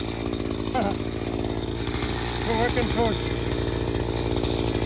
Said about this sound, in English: you can hear the chainsaws running in the background because that's what we're doing.